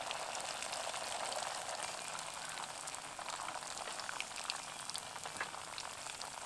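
Batter for a sweet fries in hot oil with a continuous, even sizzle and fine crackling, steady and fairly soft throughout with no talking.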